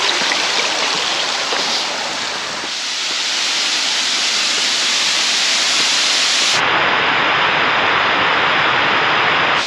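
A loud, constant rush of a waterfall in the Altai mountains roars steadily, broadband and close, with no voices.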